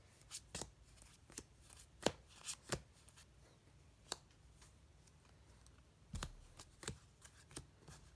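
Cardfight!! Vanguard Gold Paladin trading cards being sorted by hand, with soft snapping flicks and light slaps as cards are laid down one after another in uneven rhythm, close and quiet.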